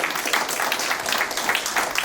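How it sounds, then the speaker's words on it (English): Audience applause at a university talk on emotional well-being, dense steady clapping from a crowd lasting about two seconds. "I think this deserves a very big round of applause."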